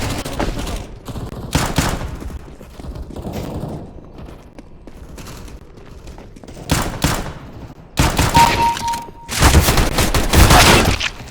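Tec-9 pistol fire in CS:GO, rapid loud bursts of cracking shots that come in clusters, with heavier sustained volleys near the end amid other game mechanism clatter.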